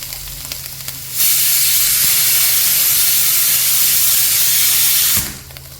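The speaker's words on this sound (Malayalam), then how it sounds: "ഇനി നമ്മൾ നേരത്തെ അരച്ചെടുത്ത ആ അരപ്പ് നമുക്കിതിനുള്ളിലേക്ക് ചേർക്കാം" Ground coconut spice paste for a Kerala cherupayar erissery hits a hot pan with a sudden loud, sustained sizzle lasting about four seconds, then cuts back to quieter kitchen background.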